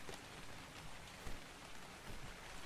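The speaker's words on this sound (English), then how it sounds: "It's raining out here right now." Rain falling in the survival video game ARK, a soft, continuous patter of drops with a few slightly louder splashes, heard alone and faintly.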